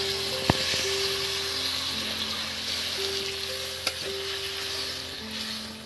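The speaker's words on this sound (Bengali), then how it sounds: "এবার এর মধ্যে আমি জল দিয়ে দিচ্ছি।" Water goes into a pan of frying potato, pointed gourd and tomato. A steady, close hissing sizzle fills the whole stretch, broken by a couple of sharp clinks from a utensil against the pan.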